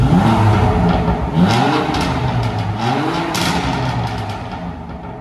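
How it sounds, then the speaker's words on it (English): BMW M4 Competition 3.0-litre coupe with its exhaust valves opened, blipped through several sharp revs that rise and fall in quick succession, loud and close, then settling into a steady burble. "And then opening up the valves on the exhaust."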